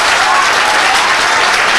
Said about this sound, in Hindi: एक बार आप लोग ताली बजाइए